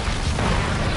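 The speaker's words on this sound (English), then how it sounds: "there's a lot of explosions" An explosion in the video game Predator: Hunting Grounds, a loud, dense blast of broadband noise with a heavy low boom that fills the whole second.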